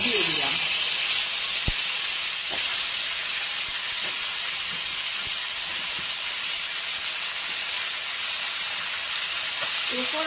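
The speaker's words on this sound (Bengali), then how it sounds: "ওলকপিগুলোকে আমি এর মধ্যে দিয়ে দিলাম" Cut kohlrabi pieces hit hot oil in a pan for a kohlrabi-and-prawn dish, setting off a loud, steady hiss of sizzling and steam that holds close and continuous throughout.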